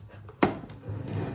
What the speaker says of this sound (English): Obviously this mag goes straight in.